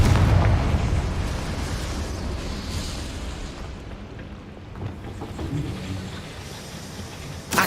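A fiery blast from the Confringo explosion spell in the Hogwarts Legacy video game erupts loudly at the start, then rolls off into a lingering rumble with scattered crackles and a sharp pop at the very end.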